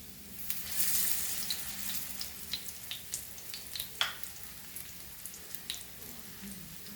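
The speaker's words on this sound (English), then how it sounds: "Medium flame and tawa fry." Black pomfret coated in rava shallow-frying on a tawa over medium flame, a soft steady sizzle with scattered crackles and spits popping through, fairly quiet and close.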